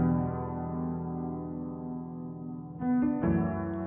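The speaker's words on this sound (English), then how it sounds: "it's gonna adjust the pitch and it's also gonna slow it down." Music pitched down by a few semitones and slowed with the vary speed function in Logic Pro X, a sustained afroswing-style soulful track that plays continuously at steady loudness and swells slightly toward the end.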